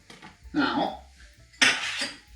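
Vegetables being tossed and mixed in a bowl give two bursts of clattering and scraping against the dish, the second louder, with quiet pauses between.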